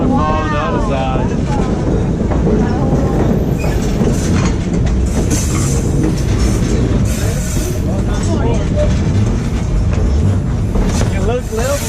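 Skagway scenic train running along a cliff edge, with a loud steady rumble and wind noise throughout while people talk excitedly over it.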